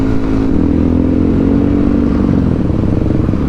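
Honda CBR motorcycle engine running close by with a dense, steady mid-range rumble and a faint rising tone, loud and continuous with no talking.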